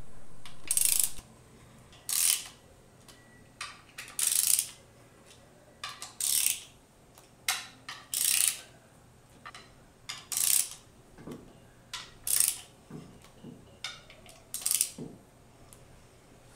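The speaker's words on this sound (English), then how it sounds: "Use a ratchet and remove the jacking bolts." A hand ratchet backs out the jacking bolts on an MWS pump gearbox cover. It makes a sharp, close ratcheting click in short repeated bursts with brief pauses between strokes, and no voices.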